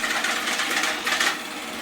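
A Deenkee DK650 robot vacuum runs with a steady, close whirring drone and a slightly rising and falling hum, heard alone.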